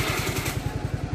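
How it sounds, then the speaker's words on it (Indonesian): Suzuki Nex II scooter with about 13,600 km on it, idling close by: a steady, even low putter with a fast regular rhythm and mechanical clatter, no voices. "Kita nyalakan mesinnya."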